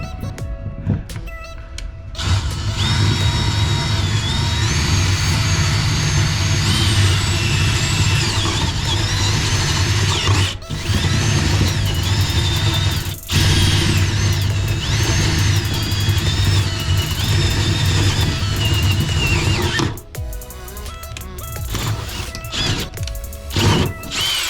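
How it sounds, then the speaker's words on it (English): A power drill with a spade bit bores through wood while wiring a shed, the motor whining loudly for about twenty seconds, its pitch wavering and dipping under load before it winds down and stops. "we'll go on and drill that one too"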